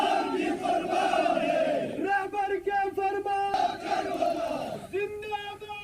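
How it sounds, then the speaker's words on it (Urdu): Protesters at a pro-Iran rally chant slogans against America and Israel: a large crowd roars in loud, rhythmic unison, surging in repeated waves with sharp shouted peaks and no pause. "مظاہرین نے امریکہ اور اسرائیل کے خلاف نعرے لگائے"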